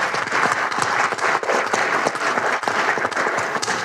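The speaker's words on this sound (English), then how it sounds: "So please give them a round of applause." An audience at the Kentucky Derby Museum applauds, giving a dense, sustained round of many hands clapping at a steady level, fairly close and without talk.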